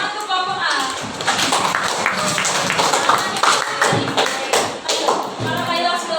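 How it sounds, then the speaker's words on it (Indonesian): A classroom of students claps for a group, a busy patter of hand claps and taps lasting several seconds with some thumps mixed in, close and lively. "kita tepuk tangan untuk kelompok A"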